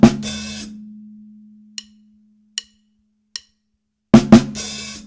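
A burst of drum kit hits opens with a ringing low drum tone fading out, then three light, evenly spaced hi-hat ticks and a closing flurry of snare hits.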